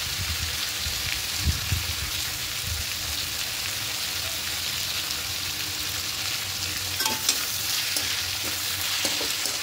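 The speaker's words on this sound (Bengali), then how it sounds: "খুব ভালো করে মিশিয়ে নেব সব কিছু। এভাবে মিশিয়ে নিয়ে একটু কষতে থাকবো।" Taro stolons with grated coconut stirred and frying in a pan, a dense continuous sizzle with a few scraping strokes of a spoon, close and fairly loud throughout.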